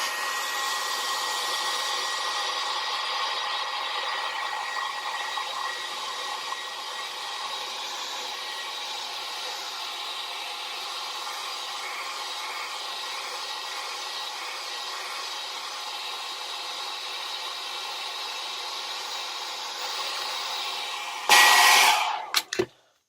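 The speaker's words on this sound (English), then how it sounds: "A trusty hairdryer. Let's try and warm this up and see what happens." A hair dryer blows with a steady, close whir for about twenty seconds, warming a Nintendo 2DS during lens replacement, then is clicked off with a brief clatter.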